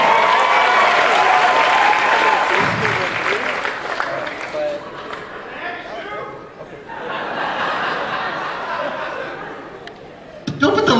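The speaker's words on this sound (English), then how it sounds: "Everybody give us applause." Convention crowd at anime-con opening ceremonies bursts into sustained applause and cheering, a dense roar of clapping that swells, dips and rises again, with laughter and chatter mixed in.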